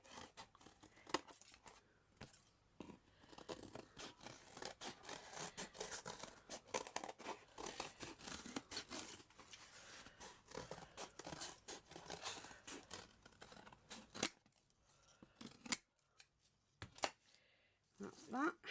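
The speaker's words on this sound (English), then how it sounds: "So I'm going to take some cardboard, put the two pieces together, cut my shape out." Scissors cutting a shape out of two stacked pieces of cardboard for a miniature diorama, a steady close run of crunching, snipping and crinkling with a few pauses near the end.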